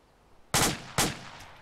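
Two loud, close bursts of automatic rifle fire in ArmA 2, each a sharp crack trailing into a short decay, roughly half a second apart, followed by a fainter distant shot.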